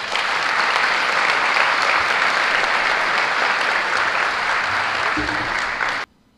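Steady, loud applause from a large audience at the opening of an investment event in Paraguay honoring the president, a dense wash of clapping that continues evenly and then stops abruptly.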